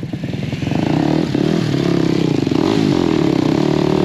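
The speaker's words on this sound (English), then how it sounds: "Let the revs out, the clutch out." A 300cc motorcycle engine revs hard and loud as the clutch is let out, the harmonic drone climbing and holding steady close by, with a faint clattering under it.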